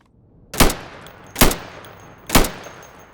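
Three single rifle shots ring out in the shooting-range tutorial of the video game Insurgency, fired at wooden targets: loud sharp cracks spaced about a second apart, each with a short decaying tail.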